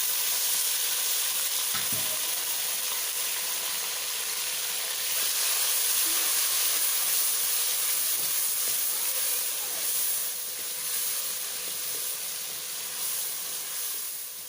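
Onions and tomatoes frying in a pan for nargisi kofta gravy, giving a steady, fairly loud broadband sizzle that holds throughout with no talk.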